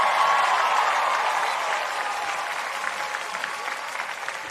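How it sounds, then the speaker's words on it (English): Graduates and guests applaud at a university social work commencement, a broad crowd of clapping that starts strong and slowly tapers over several seconds, with no voices on top. "Give yourselves a round of applause."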